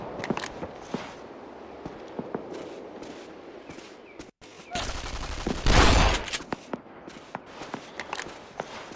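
A shotgun fires repeatedly in a WW2 video game: a string of sharp blasts amid footsteps and game noise, with a louder, heavier burst of fire near the middle.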